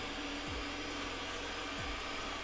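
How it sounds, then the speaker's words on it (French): An Ecovacs Deebot X1 Omni robot vacuum cleaner runs with a steady, loud broadband whir and a constant hum, with brief low thumps as it moves. "On a franchement un super robot aspirateur."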